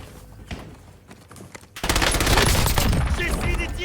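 Dense automatic gunfire in the Warzone game bursts in loud and close after a quieter stretch of scattered shots and movement, continuing as a sustained rapid barrage to the end.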